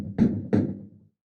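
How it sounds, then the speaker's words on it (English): Two firm knocks on a wooden door, evenly spaced and close by, with nothing else heard. "Someone knocks at the door."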